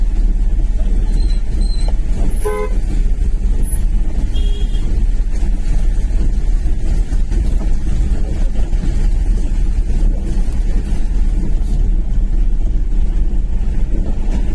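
A Porter tempo goods vehicle drives toward Gorai beach, its engine a steady loud rumble with constant road and wind noise throughout, no voices over it.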